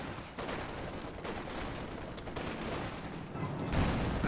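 Rifle fire from infantry in a Company of Heroes 2 battle cracks in scattered shots and volleys over a dense rumbling combat backdrop, swelling louder toward the end.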